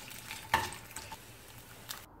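Urad dal, garlic with its skin on and spices fry in a pan for a mint thokku, giving a soft steady sizzle with a few light clicks of stirring, quiet and close.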